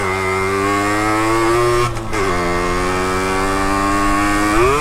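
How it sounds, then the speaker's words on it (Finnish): A moped engine idles and runs steadily up close, a loud buzzing tone that dips briefly and then picks up slightly in revs toward the end. "ei ole ikinä varmaan toiminut tämä mopo näin hyvin"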